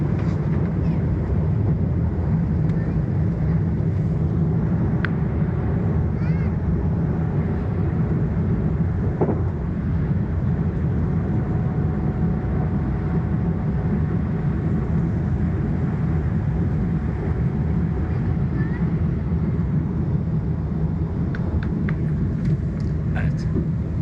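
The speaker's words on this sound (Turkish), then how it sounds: "Güzel bir kalkış yaptı. Temiz, sarsmadan, mis." From inside the cabin of an airliner on an Istanbul to Los Angeles flight, a continuous loud low engine rumble and roar fills the climb after takeoff, steady throughout, with faint voices underneath.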